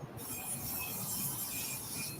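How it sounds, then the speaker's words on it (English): A train rolls past on nearby tracks, its wheels squealing high and sustained over a low rumbling undercurrent, fairly close and steady throughout. "Tina said this morning, more trains here than there is at Richards or Bellevue."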